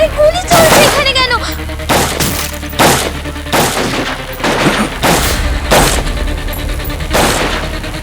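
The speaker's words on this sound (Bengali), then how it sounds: "আরে গুলি চলছে এখানে কেন?" Gunfire rings out in a Bengali TV crime drama, CID, as a rapid series of loud, sharp shots and booming bursts at close range, with voices talking under and between them.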